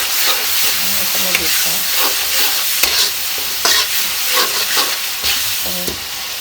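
Ginger paste and cumin paste fry in hot oil with a loud, close sizzle and repeated stirring scrapes, a continuous crackling hiss with no talking.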